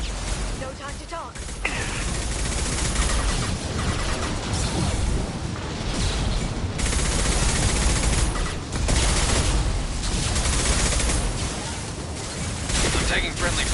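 Sustained bursts of gunfire from the video game Mass Effect 2, dense and loud throughout, with crashing impacts, booms and mechanical clatter in a chaotic firefight, voices mixed in among the shooting.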